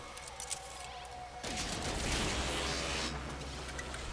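Weapon fire in the No Man's Sky game: after a low hum, a sudden burst of dense, continuous shooting noise starts partway through and holds loud to the end.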